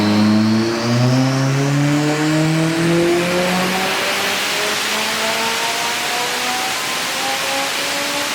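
A turbocharged Mitsubishi Evo X roars through a dyno pull, its loud engine note climbing steadily in pitch as revs build without a break, with no voices over it.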